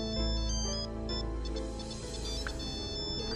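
An office telephone rings with a melodic electronic ringtone, a bright repeating chime pattern that stays loud and close for a few seconds, with no talking over it.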